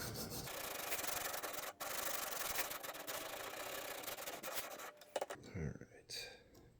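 A knife blade is worked against an abrasive stone on a TSPROF Pioneer fixed-angle sharpening system, making a close, continuous grinding rasp with one brief break before the strokes stop near the end.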